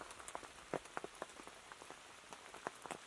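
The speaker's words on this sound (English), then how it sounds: "It started raining." Rain falls on a natural bushcraft shelter at a solo woodland camp, with scattered drops tapping the cover in irregular bursts over a soft, steady hiss. The sound is fairly quiet and close, and no voices are heard.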